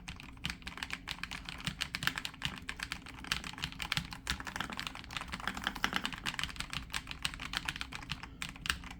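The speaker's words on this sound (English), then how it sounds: "let's test out the actual keyboard" Steady, rapid typing on a Redragon mechanical keyboard, a dense run of soft clicks and taps close to the microphone with no talking.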